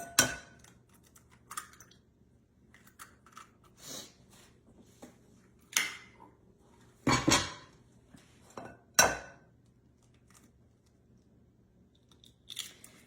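Two large eggs cracked and whisked in a bowl for pancake batter, giving scattered sharp taps and clacks, separate crisp knocks spaced a second or two apart, heard close with no talk.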